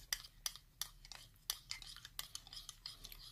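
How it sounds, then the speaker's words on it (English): A utensil scrapes and clinks in short, irregular strokes while stirring a Polish military ration breakfast with milk in its container, close and fairly quiet, with no one talking. "Give it a good stir."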